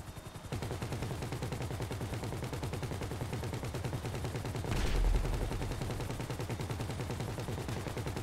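Rapid automatic gunfire rattles nonstop in GTA 5 multiplayer, a dense, even stream of shots lasting several seconds, with a heavier burst or explosion thump near the middle.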